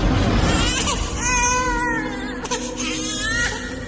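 Infant crying in a Hindi horror story audio drama, a steady wailing cry over a constant dense background bed, close and fairly loud.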